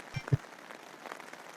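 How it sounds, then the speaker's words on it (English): Soft, steady patter of video game rain on a surface with a couple of low thumps at the start, quiet and continuous. "It's raining."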